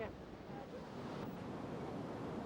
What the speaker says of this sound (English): There is really a heavy wind.